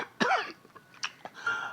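An old, bedridden man coughs in short, harsh bursts, several rough hacks with brief pauses between them, close and clear against a quiet room.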